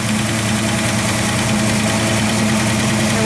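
A 1968 Mustang coupe idles loudly up close, with a steady mechanical drone and the whir of its power steering pump running without a break, no talk.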